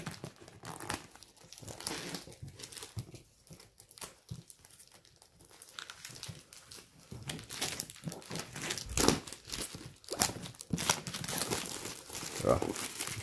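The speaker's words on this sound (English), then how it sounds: "I'm doing a terrible job of getting this plastic covering apart." Crinkling and tearing of the plastic shrink-wrap covering on a Terraforming Mars Big Box board game, with irregular close crackles and rips that grow louder and busier toward the end, with no talking.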